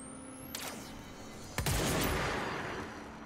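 Two powerful gunshots from a weapon in the action game Control, the first a sharp crack and the second a louder deep boom with a long echoing tail, over a steady hum, no speech.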